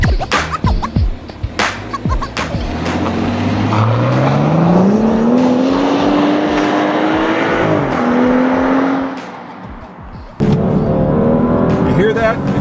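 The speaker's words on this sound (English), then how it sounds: "the engine just loves to rev" A 2013 BMW X5 engine revs in sport mode, loud and close as pitch rises steadily through a long pull before easing off, with road and cabin noise around it and a voice talking at the start and end.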